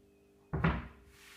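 Two wooden doors on a handmade pigeonhole cabinet swing shut, giving a close double knock of wood on wood in quick succession, then a faint fading rattle.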